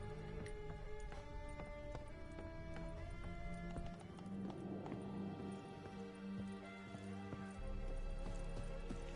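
Hooves of the horse Roach gallop in The Witcher 3 on PS4, a steady fast clip-clop rhythm under continuous game music and ambience.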